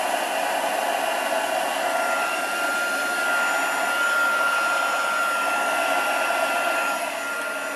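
A hair dryer blows steadily on a craft piece from the back, giving a loud, close, continuous whooshing roar with no pauses.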